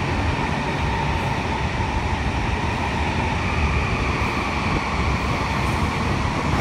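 A CR400 Fuxinghao high-speed train at Beijing South station gives a steady, loud, even rolling hum and rumble that holds without break for several seconds.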